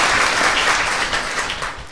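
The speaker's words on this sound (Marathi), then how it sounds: "म्हणून एकदा टाळ्या वाजून त्यांचं आपण स्वागत करू." Audience applause welcoming a guest at a village kirtan, a dense crowd of hands clapping steadily and fairly loud, tapering slightly toward the end.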